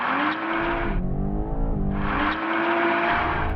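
A 2020 BMW M8 launches hard in two-wheel drive mode, its engine roaring loud and close with a rising rev, a brief dip as it shifts near the first second, then surging again through the run.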